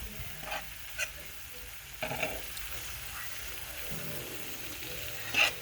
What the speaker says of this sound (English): And we got our seafood mix cooking.